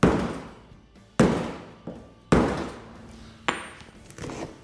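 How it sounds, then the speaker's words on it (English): An 8 lb sledge hammer strikes a pine block held against the body of a BOSS-engined XC Falcon, four heavy dull thuds with shorter knocks between, each blow ringing briefly before fading. "Doesn't take much of a hit with that big hammer."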